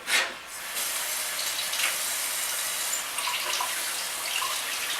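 Water runs from a tap and splashes over container tops being rinsed, a steady close rushing with a few brief spatters.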